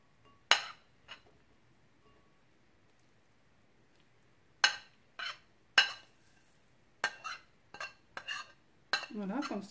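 A spoon clinks against a bowl while mixing garlic, mint, cumin and salt for raita, with sparse, sharp taps that come in a quick, irregular run toward the end, all close and fairly quiet.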